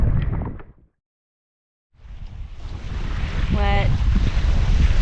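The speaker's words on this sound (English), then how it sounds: "It's very, very windy today." Strong wind buffets the microphone on the Maine coast during a sea kayaking expedition, a loud continuous roar with the rush of surf. It cuts out briefly near the start, then returns and builds.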